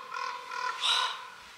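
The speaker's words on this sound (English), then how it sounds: "I love listening to those birds." Harsh cawing calls from a crow on the Sunshine Coast Trail, a few repeated caws in quick succession, fairly close and alone.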